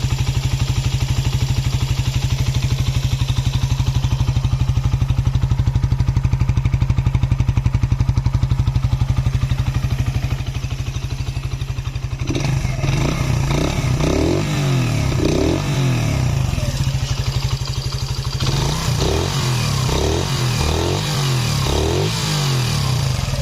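A MASH 125 motorcycle engine, recently repaired, idles steadily with an even, close putter; partway through, a louder irregular clattering rhythm joins in bursts over the running engine.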